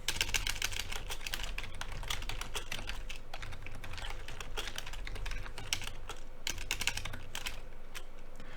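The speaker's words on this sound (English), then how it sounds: "Maybe typing is faster." Rapid keystrokes clatter on a computer keyboard in a dense, continuous stream of close clicks over a low background hum, with no speech.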